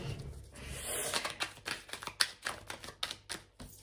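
Tarot cards are shuffled and laid out in a rapid, soft, close patter of flicks and taps, quiet and without talk.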